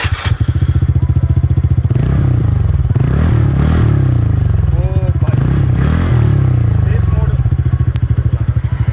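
Engine and exhaust of a modified TVS NTorq 125 Race XP scooter, idling close and loud with a steady rapid putter and rising to a couple of revs partway through, while people talk over it.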